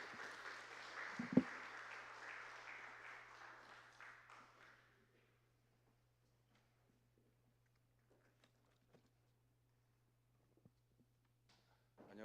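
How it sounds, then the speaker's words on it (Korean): A church congregation at a Korean Saturday worship service in Oregon claps in welcome, a soft pattering applause lasting a few seconds before fading into near silence. "따뜻한 박수로 같이 환영해 주시겠습니다"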